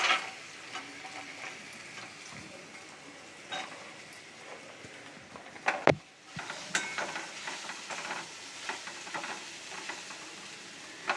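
Beetroot and carrot, with a pinch of turmeric, sizzle and crackle steadily while frying in a pan, with scraping stir noises throughout and one sharp utensil knock midway.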